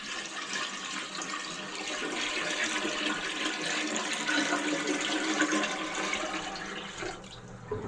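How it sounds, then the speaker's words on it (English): Sewage ejector pump running as water drains after a toilet flush, a steady rushing, gurgling wash of water with a continuous mechanical hum, close and fairly loud, no talking. "There's an ejector pump."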